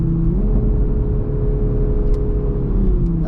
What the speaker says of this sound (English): and I can switch the gears right here with my paddle shifters